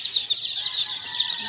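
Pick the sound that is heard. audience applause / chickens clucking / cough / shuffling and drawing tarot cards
chickens clucking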